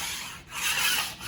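A drywall knife scrapes dried joint compound high spots off a drywall seam, giving a steady rasping, rubbing scrape that dips briefly then resumes, close and fairly quiet, with no talking.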